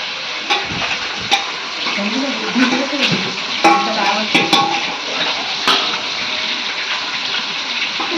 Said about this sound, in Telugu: చూడండి ఫ్రెండ్స్, ఆయిల్లో చికెన్ వేసేసుకున్నాము.